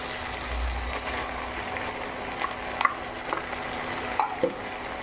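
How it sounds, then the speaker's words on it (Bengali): Chicken sizzling in its own released oil with ground masala paste while spinach (palak) chicken cooks, a steady broadband frying hiss with a few clinks and scrapes of stirring, moderately close, no talk. "মশলাটা দিয়ে আমি কষিয়ে নেবো এটাকে ভালো করে"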